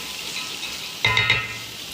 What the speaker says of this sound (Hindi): थोड़ा सा मटर को हम भूनेंगे